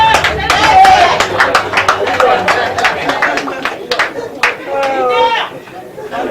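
At a birthday party in Portland, Maine, a crowd claps while lively chatter and voices fill the room, the claps coming in loose bursts under the talk.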